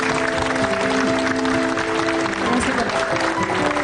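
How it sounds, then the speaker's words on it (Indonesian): Audience applause for Putri at an ESQ Generasi Emas motivational event, a steady wash of clapping that stays loud and dense throughout, with some background music or tones held beneath it. "Tepuk tangan untuk Putri."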